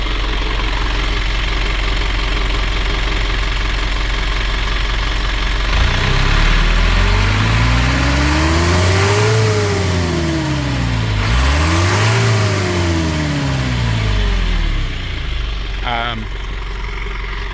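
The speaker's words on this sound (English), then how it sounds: "I'll just rev now so as that can be seen." An Isuzu camper's diesel engine with about 500,000 km idles, then revs up twice in rising and falling sweeps before settling back to a steady idle; loud and close, with no talking.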